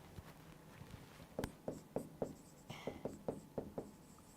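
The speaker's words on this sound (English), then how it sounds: "So let me write it down." Handwriting for a physics problem, a quiet series of soft, regular pen or marker strokes tapping and scratching at close range, about a dozen in a steady rhythm.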